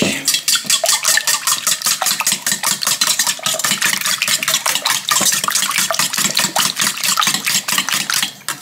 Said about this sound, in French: Et je vais mélanger.